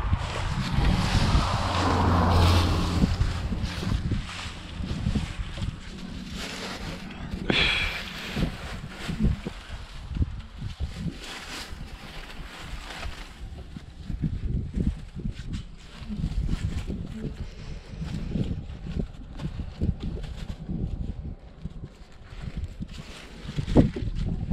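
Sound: wind blowing

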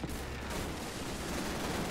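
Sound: machine gun firing in Call of Duty 3 video game

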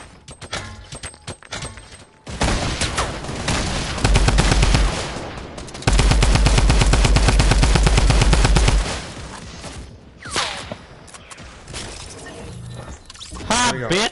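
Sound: gunfire shooting down an enemy in the video game Fortnite

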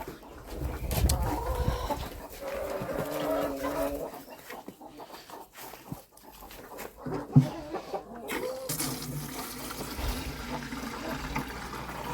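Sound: rooster

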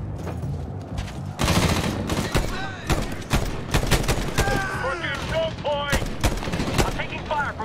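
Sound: gunfire in Medal of Honor 2010 video game

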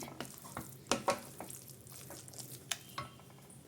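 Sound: stirring sweet poha pongal with ghee in a pan

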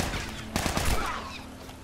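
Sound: gunfire in video game The Last of Us

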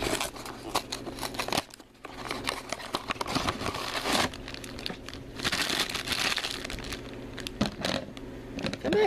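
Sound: opening a plastic Disney blind bag

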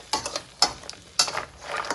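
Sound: stirring crab with garlic butter in a big pan

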